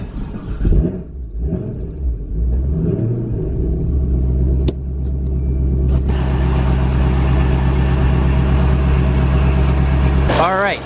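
Supercharged 700-horsepower Chevrolet Corvette rumbling at a loud, close idle as it rolls out of a garage, with a brief rev near the end and someone talking early on.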